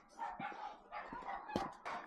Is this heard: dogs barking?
yes